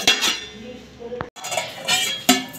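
A vessel set down over dough to cover it, giving a few clinks and light knocks of metal and glass dishes close by, with a brief silence midway.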